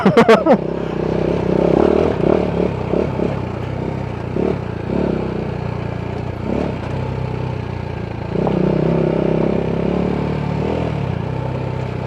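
A BMW G 310 GS motorcycle rides through Bali, Indonesia, its engine droning steadily up close with gear and chassis clatter and shifts in revs, while a rider talks over it throughout.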